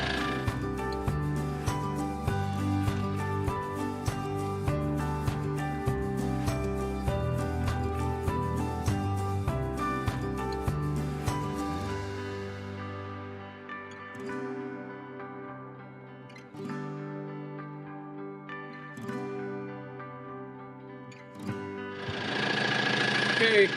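A Case 450 track loader's engine runs steadily with a rhythmic mechanical knock, loud and close, while the front lifts. It then eases to a quieter idle and revs up again at the end.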